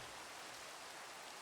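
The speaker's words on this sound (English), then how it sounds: "Wanting to get rid of the rain." Rain in a Minecraft-style video game, a steady, even hiss of rainfall that stays constant throughout the short moment with nothing else over it.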